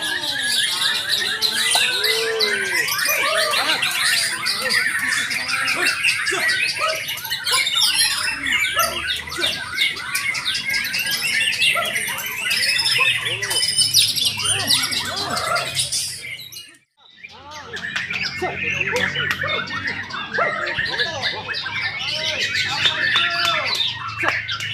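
A white-rumped shama (murai batu) sings loudly and continuously at close range, a dense run of squawks, chirps and whistled phrases, with a brief pause before the song resumes.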